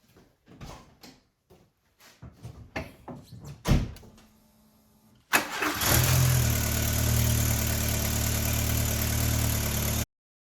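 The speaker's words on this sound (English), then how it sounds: "The last step is to start the car." VW Golf Mk1/Mk2 Citi Golf in a garage: a few clicks and clunks, then the engine cranks and catches, settling into a steady loud idle close by, with no talking.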